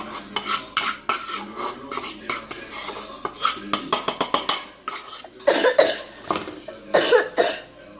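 Fish mosli ingredients mixed in a bowl: a busy run of quick scraping, tapping utensil strokes and clinks, irregular bursts with short pauses, close and fairly loud with no talking.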